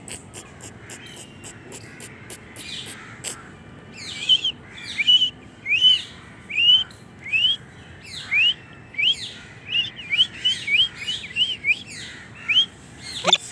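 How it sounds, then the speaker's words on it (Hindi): Parrot at Rani Bagh Zoo in Hyderabad, Sindh, giving a rapid series of sharp, high chirps in irregular bursts, fairly close and loud, with faint insect buzz in the background. "ये फिर आ गया है तोता।"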